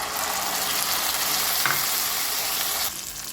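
Tomato paste frying with ginger garlic paste in a pan, a steady loud broadband sizzle that keeps going for about three seconds and then drops slightly at the end, close up.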